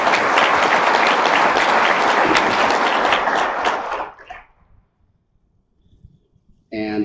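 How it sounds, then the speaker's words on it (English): Audience applause at a meeting honoring people for their service, a dense, loud wash of clapping for about four seconds that fades out into near silence, followed by a brief voice at the end. "Please give them a round of applause for serving."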